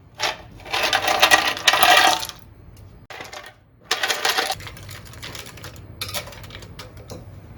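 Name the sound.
lots of ice being added to milk sharbat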